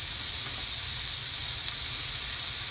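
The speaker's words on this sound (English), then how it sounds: "So I've got the heat on high right now as it goes in there to sear it." A burger patty sears in a ripping hot cast iron pan with canola oil over high heat, giving a loud, continuous hiss and sizzle at close range with no talk.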